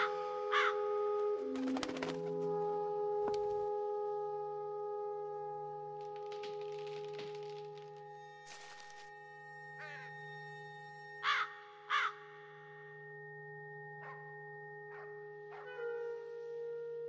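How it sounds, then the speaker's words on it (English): Several crows caw from a ghost-hunting adventure game near a church, their harsh calls repeating in short bursts over a steady tonal drone with occasional chime-like tones. "Large black crows are watching me."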